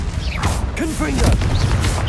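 A Confringo blasting spell explodes in the Hogwarts Legacy video game. Short booming bursts land while a voice shouts over them, and the blasts are partly masked by the speech.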